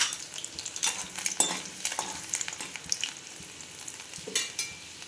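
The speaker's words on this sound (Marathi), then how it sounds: "लसूण व्यवस्थित होऊ द्यायचं लागतं." Garlic fries in hot oil with mustard seeds, giving a loud, crackling sizzle with sharp pops and occasional utensil scrapes, close up and with no talking.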